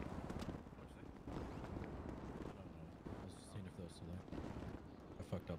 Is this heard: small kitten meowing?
no